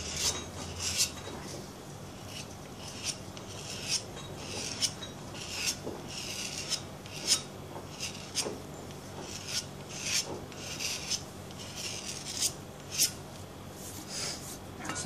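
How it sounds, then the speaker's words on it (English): An old three-sided 60-degree file scrapes across plastic to deburr it, regular rasping strokes repeating about once a second, close and clear with no talking. "what I like to use when I'm deburring plastics is just a old file"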